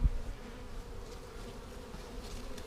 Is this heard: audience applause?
no